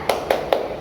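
A kindergarten class does a spirit clap, three crisp evenly spaced claps ringing out close and loud in quick rhythm.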